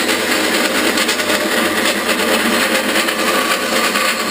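A bandsaw makes its first cut, giving a loud, steady whirring buzz that holds constant throughout, close and without pause.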